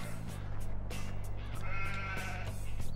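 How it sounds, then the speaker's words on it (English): Sheep bleat in a crowded pen in Farming Simulator 2017, overlapping calls repeating steadily over a constant low engine-like hum throughout. "There's so many sheep here."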